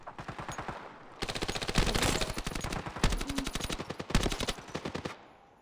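Rapid rifle gunfire in a video game, loud bursts of repeated shots with short pauses between volleys, no speech.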